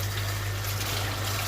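Water streams into an LG 6.5 kg washing machine in a steady, even trickle over a constant low mechanical hum, heard alone without talk.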